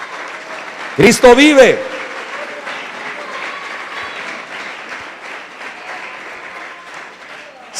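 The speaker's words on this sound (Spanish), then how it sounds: "Denle un aplauso fuerte al Señor en esta tarde." A church congregation breaks into a short, loud burst of applause lasting under a second, and then a voice speaks over the quiet room.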